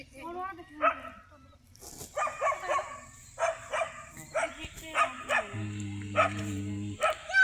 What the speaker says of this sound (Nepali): त्यो कुकुर नि भुगा भुगा